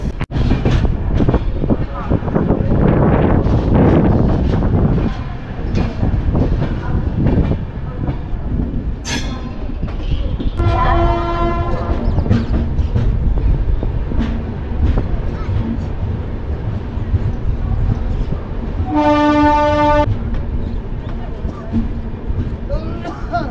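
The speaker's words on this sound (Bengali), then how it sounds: "আপাতত ঢুকছে লখনৌ চারবাগ স্টেশনে" Amritsar Mail passenger train rolling into Lucknow Charbagh station, a loud continuous rumble of wheels on track with clattering and two bursts of high horn or squeal tones, under faint speech.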